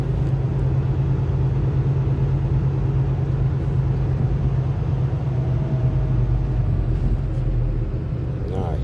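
Black Volvo semi truck driving bobtail without a trailer: a steady, loud low engine drone and road rumble heard from inside the cab, continuous throughout with little change.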